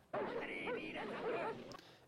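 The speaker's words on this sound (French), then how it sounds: "On a un gros plan sur les chiens qui aboient" Several dogs bark in a tense film scene, a close-up of the pack; sharp yapping barks come in quick bursts at close range, loud and continuous for about a second and a half.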